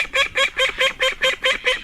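Ducks give a rapid run of about eight loud, evenly spaced honking quacks, close and regular, each a short nasal burst, with no talk.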